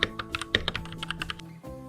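Fast typing on a Keychron K6 mechanical keyboard: a quick run of sharp, close key clacks with a deeper thunk now and then, loud and alone.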